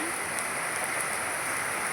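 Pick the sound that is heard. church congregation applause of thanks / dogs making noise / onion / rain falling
rain falling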